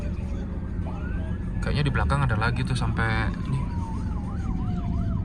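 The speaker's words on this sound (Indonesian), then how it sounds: "Sampai ada ambulan guys." An ambulance siren wails through a Jakarta traffic jam, its rising and falling tone steady in the background while people talk inside a Mercedes-Benz C200 W202.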